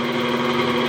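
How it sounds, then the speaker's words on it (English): A Rikon 30-212VS variable-speed drill press runs steadily, a constant close motor hum and whine with no talk over it. "I'll just turn the drill press on and show you here the speed control"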